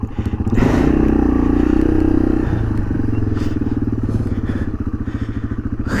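A motorcycle engine runs close and loud on a rough backcountry trail in the Lost River Range, its low throbbing drone holding steady with small throttle swells, mixed with clattering and scraping over rocks.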